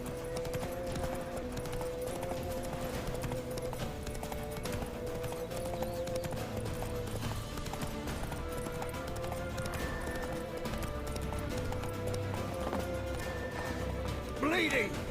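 Roach the horse gallops in The Witcher 3 with a steady run of hoofbeat clip-clops under game sounds and dialogue, and the characters talk throughout.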